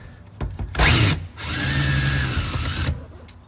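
A power drill whirs in bursts as it backs out the top bolts on a Jeep Wrangler JL, a short spin, a pause, then a longer steady run close by with no talking.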